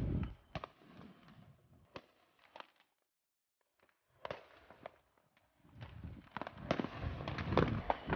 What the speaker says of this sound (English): let's go ahead and watch the fireworks